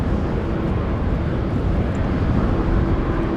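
A KLM Embraer 190 in SkyTeam livery at Amsterdam Schiphol Airport gives a loud, continuous roar mixed with heavy wind buffeting on the microphone during a storm.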